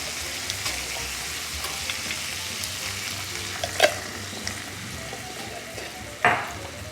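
Ground taco meat with taco seasoning and jalapeno juice sizzles steadily in a pan, with a soft continuous fry and two sharper scraping clinks of stirring, close and fairly quiet.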